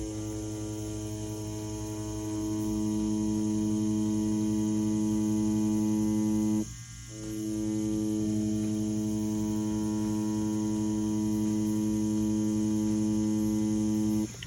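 Ambition Ninja wireless tattoo machine running at 7.5 volts, a steady close buzzing hum that briefly dips around the middle, then resumes unchanged.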